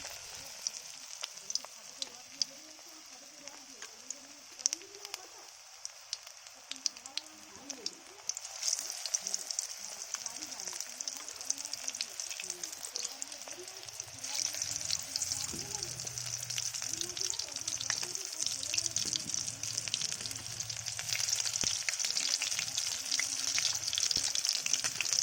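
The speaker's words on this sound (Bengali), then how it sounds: "এবারে পকোড়া ছাড়ছি। তেল গরম হয়ে গেছে" Chicken pakoras deep-frying in hot oil, a steady broadband sizzle that thickens and grows louder midway as more batter goes in, continuing evenly without talk.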